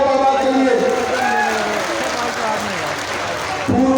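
A Haryana political rally crowd claps for Baba Balaknath, a dense burst of applause under a speaker's amplified voice, fading slightly midway, then swelling again near the end.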